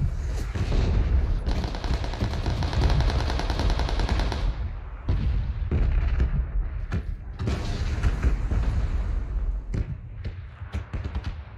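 Rapid bursts of rifle gunfire from a VSS in a shooting video game, dense and loud, with repeated volleys and short pauses continuing throughout.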